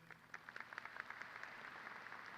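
Scattered, faint applause from a high school graduation audience, with a few sparse claps heard from a distance for a couple of seconds.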